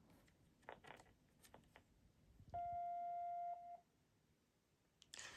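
A steady electronic on-hold tone from an RCA 25424RE1-A office telephone sounds once for about a second, loud and clear over faint background handling noise.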